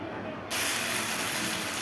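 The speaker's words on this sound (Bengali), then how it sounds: "তো মাংসটা কষিয়ে কষিয়ে রান্না করছি।" Chicken with spices being stir-cooked down in a pan, a steady loud sizzle and hiss that jumps in intensity partway through and then holds constant.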